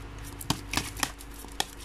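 Tarot cards are shuffled for a love reading, producing soft, close riffling and several light taps and slaps of the deck, fairly quiet throughout.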